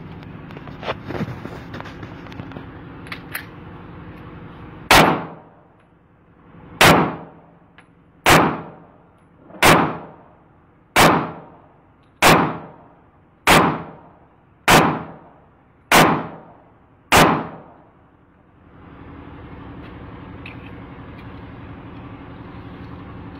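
A 30 bore Beretta 92fs pistol, made in Darra Adam Khel, fires nine sharp, loud shots at a steady pace of about one per second, each with a short ringing decay outdoors, with faint background noise before and after.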